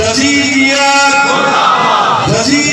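A big Ashura procession gathering in Gujrat roars a chanted slogan in unison, one loud collective shout rising and fading, then another beginning at the end.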